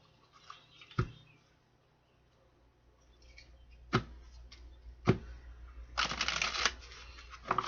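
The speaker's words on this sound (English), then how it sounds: "One more shuffle." Quiet riffling of a deck of cards being shuffled, with a few sharp taps and a brisk flurry near the end, no talking.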